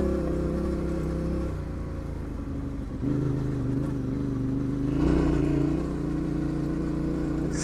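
A Yamaha Tenere 700 motorcycle pulls hard in second gear over rocky ground, its engine droning loudly and steadily with rising pitch, a brief dip then a surge near the end, and no speech.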